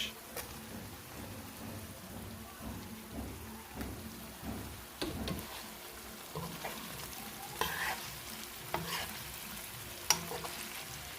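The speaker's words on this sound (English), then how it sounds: "this is just the frying up process" Steady sizzling and crackling of mixed vegetables and saltfish frying in a pan, with occasional stirring scrapes and clinks throughout.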